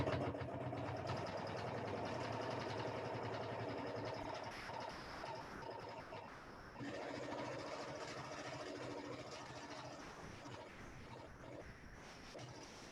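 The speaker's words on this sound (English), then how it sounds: "I'm going to quilt some kind of swirly shapes, some pointy shapes" A sewing machine running steadily during free-motion quilting, a continuous mechanical hum and rapid needle chatter that holds throughout, dipping briefly in the middle before resuming, close and moderately quiet.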